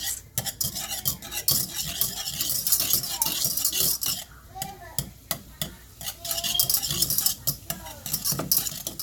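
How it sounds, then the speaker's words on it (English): Butter melts and sizzles in a pan while being stirred for a roux, a busy crackling hiss mixed with scraping utensil sounds and clinks against the pan, close and fairly loud, with brief indistinct voice. "I'm gonna let this butter melt on down some"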